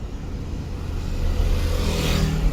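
A car moves off from a stop on a slope during a driving lesson, with a low engine rumble and a steady whirring that builds as it pulls away.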